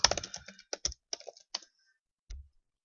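Someone types on a computer keyboard, tapping out a short burst of uneven keystrokes, then a pause and one last soft thump, close and quiet in a silent room.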